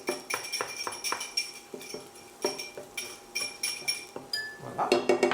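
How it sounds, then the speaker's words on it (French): Dry coquillettes pasta tumbles into a pan in a run of sharp, rattling clinks and taps, close and steady, with no voices. "Je mets toutes les coquillettes."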